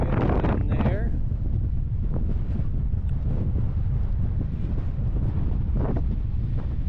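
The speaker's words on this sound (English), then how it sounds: "Just a bit windy up here." Wind blows hard across a hilltop campsite in Death Valley, buffeting the microphone with a deep, constant low rumble, while a few brief faint sounds poke through.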